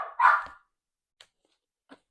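A single short, loud dog bark close by indoors, followed by two faint brief clicks or scuffles in near silence.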